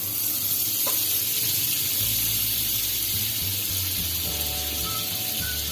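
A cube of butter with a little oil melting in a pan over a gas flame, producing a soft continuous hiss and sizzle with faint low rumble throughout.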